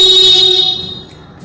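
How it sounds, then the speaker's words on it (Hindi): A Bajaj Pulsar 150/180 motorcycle horn blares continuously on its own because of a BCU fault, loud and close, steady before fading slightly toward the end. "देखो मैंने इसको निकाल दिया लेकिन फिर भी इसका हॉर्न बज रहा है, देख सकते हो।"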